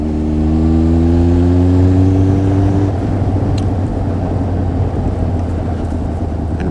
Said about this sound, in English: So, clutch in, downshift, blimp, and let go.